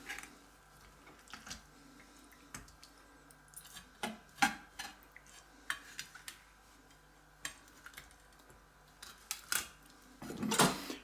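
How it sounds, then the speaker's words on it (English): A knife scrapes the guts out of a gutted fish, opened from vent to gill plate, giving scattered soft clicks and light taps, then a rougher, denser scraping burst near the end, all fairly quiet with no talking. "then just take your knife in and scrape away the guts"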